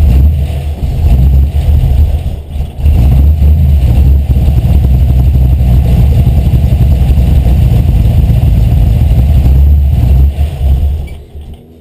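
V8-swapped Mazda Miata with a 5.0 engine, starting up for the first time: a loud, close, rumbling engine runs steadily, with a brief dip early on before it winds down at the end.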